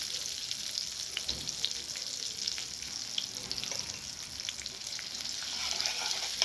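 Vermicelli frying in hot oil, a steady crackling sizzle with light stirring, close and continuous throughout with no talk.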